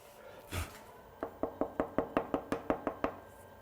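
A trimming tool shaves a leather-hard clay cup on a spinning pottery wheel, giving an even run of about a dozen crisp, regular taps after one louder knock, close and fairly quiet with no talking.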